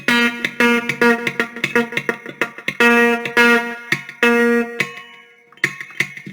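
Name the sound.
chicken picking muted guitar notes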